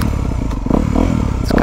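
A 2022 Honda CRF250R dirt bike with revalved fork and shock runs a lap, its engine buzzing loud and close with a steady droning note and a slight rise in revs.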